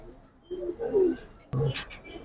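Giribaz pigeons, a pair from a racing loft, give soft low cooing calls in two short bursts, close by, with faint background noise and no speech.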